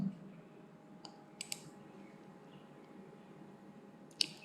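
Sparse computer mouse clicks while finalizing a digital form, a handful of small sharp taps spaced a second or more apart, close but faint over a low steady room hum, no voice heard.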